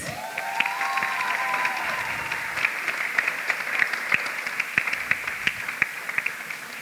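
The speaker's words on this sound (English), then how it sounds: "don't only clap me, clap all the awardees" Graduation ceremony audience applauding the awardees, scattered clapping and light cheering at moderate distance, with a raised voice briefly sliding over the noise near the start.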